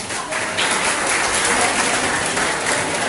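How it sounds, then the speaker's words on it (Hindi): Audience applause at a university farewell party with a poetry contest, a dense, steady wash of clapping that swells after a brief start and carries on loudly throughout, with a few voices mixed in. "मैं चाहता हूं कि आप उनके लिए ताली बजाते हैं"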